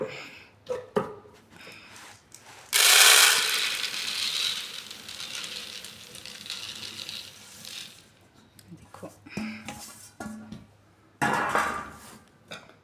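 Turmeric-coated chickpeas are poured into a storage container, making bursts of rattling, clattering grains and container knocks, loudest early on and again near the end, separated by quieter handling noises.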